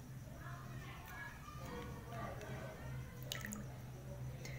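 Homemade hair conditioner of apple cider vinegar and honey is stirred together. Soft, faint wet squishing and dripping sounds sit under a steady low hum.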